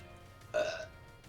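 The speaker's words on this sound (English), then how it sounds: "Wouldn't be a stream with the classic belch and all." A single short, close belch rises abruptly in a quiet room and fades within about a third of a second.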